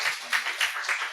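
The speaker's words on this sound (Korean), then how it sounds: "할렐루야, 우리 하나님 박수를" A church congregation claps together during a Sunday worship service, a steady dense patter of many hands at moderate volume, with no speech over it.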